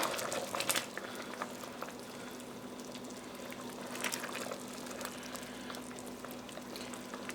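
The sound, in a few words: fenugreek mixture with coconut milk simmering and reducing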